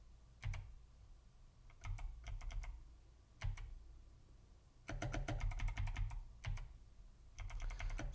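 Keys on a 1988 BBC Micro keyboard, including the spacebar, clacking during a Tetris game in quick bursts of rapid presses separated by short pauses, close and fairly quiet.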